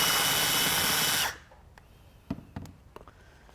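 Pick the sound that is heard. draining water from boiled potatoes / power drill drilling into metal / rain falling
power drill drilling into metal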